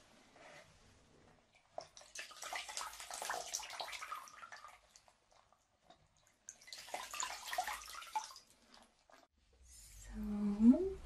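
Water splashes and sloshes in a hot sauna during an ASMR washing session, coming in two long, close, soft bursts separated by quiet, with a louder swirl at the end.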